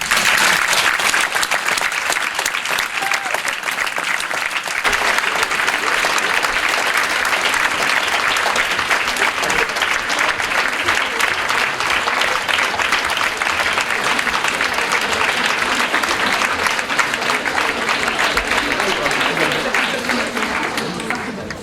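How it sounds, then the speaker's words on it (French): Sustained, loud audience applause at a French literary prize ceremony, a thick even wash of many hands clapping without a break for over twenty seconds, with a brief quieter dip early on. "Nous pouvons applaudir Vanessa Schneider."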